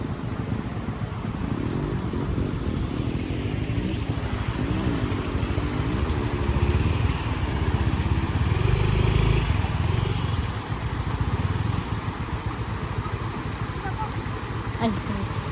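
Motorcycle engine running along a narrow path, a steady close mechanical drone with fluctuating revs throughout, with people talking over it.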